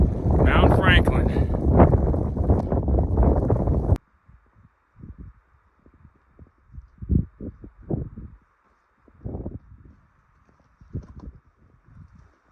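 Strong wind buffets the microphone on an exposed mountain summit for a few seconds, a loud roaring rush that cuts off suddenly, followed by quiet with scattered bumps and faint sounds near the microphone.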